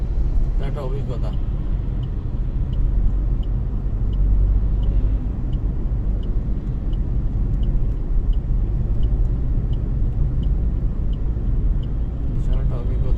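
A car travels along a road in thick fog, heard from inside as a steady, loud low rumble of engine and tyres that stays even for the whole stretch.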